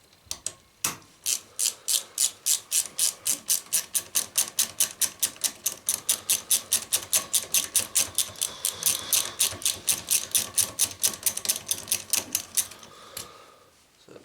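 A hand ratchet loosens a small hose clamp on a CRF 80 dirt bike, a long run of loud, evenly spaced clicking strokes up close, speeding slightly, then stopping with a final clunk.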